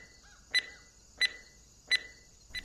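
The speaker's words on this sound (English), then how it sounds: "you could stow that beeping beeper for starters" A small electronic beeper chirps three times in an even rhythm, each a short, bright electronic tone, with a fourth softer blip at the end over quiet background noise.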